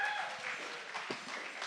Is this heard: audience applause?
yes